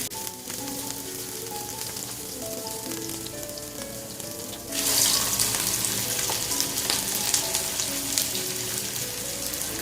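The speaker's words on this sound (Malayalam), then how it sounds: "ഇനി ഫ്രൈ ചെയ്യാം. ഞാൻ ചൂടായ എണ്ണയിലേക്ക് ഓരോന്നിട്ട് കൊടുക്കുകയാണ്." Cutlets drop one by one into hot oil, and a loud, dense frying hiss swells partway through and then holds steady and close, with a faint tune in the background.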